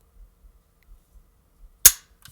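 A single sharp gunshot from a retro Colt 723 AR rifle cracks out loud and close after near silence, followed by a faint metallic rattle.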